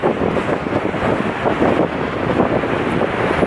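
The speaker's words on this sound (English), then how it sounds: "Not sure if you can hear us with all the wind." Strong wind gusting through a river valley on a cycling trip, a loud, continuous roaring buffet across the microphone with no pauses.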